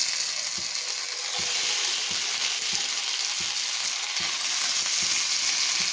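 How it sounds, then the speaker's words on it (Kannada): Fish frying in hot oil on an iron tawa, a steady loud sizzle throughout with soft periodic clicks, close and alone with no talk. "ಎಣ್ಣೆ ಕಾದಿದೆ, ಇವಾಗ ಮೀನು ಹಾಕ್ಕೊಳ್ಳೋಣ."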